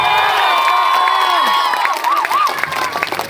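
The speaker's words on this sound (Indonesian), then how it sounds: "Tepuk tangan kawan-kawan." A crowd at a labor union rally against the omnibus law cheers and applauds, whooping and shouting over a steady roar, with a sustained tone and rising and falling voices carrying through.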